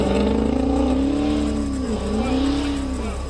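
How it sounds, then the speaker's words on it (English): Car engine revving hard as the vehicle speeds away on a dark road, a loud sustained roar with pitch rising, dipping briefly, then climbing again over steady road noise. "suddenly the other car is speeding off"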